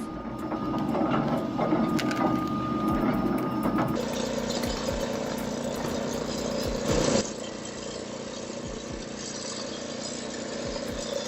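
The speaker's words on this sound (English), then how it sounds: "This is a heavy-duty firewood processor at full throttle, converting massive birch logs into clean, uniform firewood with ruthless efficiency." A heavy-duty firewood processor runs hard at full throttle while splitting birch logs, a loud continuous mechanical roar and whine with a sharp shift in pitch midway and scattered knocks and clatter.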